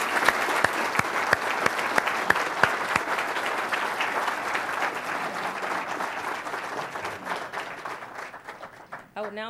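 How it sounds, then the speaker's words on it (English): An audience at a town hall applauds 2012 Army Achievement Medal winners, with loud, dense clapping and sharp nearby claps early on, thinning gradually before a voice speaks at the end. "You may now extend your applause for the 2012 Army Achievement Medal winners."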